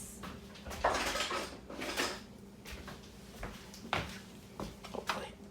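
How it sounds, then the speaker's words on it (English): A spoon scrapes and taps inside an Instant Pot while fluffing cooked rice, making a few clattering metal knocks and soft scrapes at irregular intervals, fairly close and moderately quiet. "I'm gonna grab a spoon really quick and fluff up that rice."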